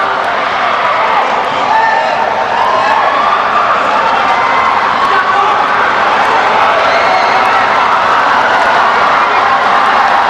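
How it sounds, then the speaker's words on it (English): At a Singapore versus Malaysia water polo match at the SEA Games, a home crowd in an indoor pool venue keeps up a loud, sustained roar and cheering, while a commentator talks over it. "Home crowd urging them on."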